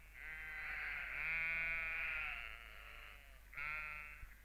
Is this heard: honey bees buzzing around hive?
no